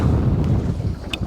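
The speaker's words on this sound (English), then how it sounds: "Oh, that wind." Wind gusting across a fishing boat on open water, a steady rushing buffet against the microphone that holds throughout, with a brief higher whistle near the end.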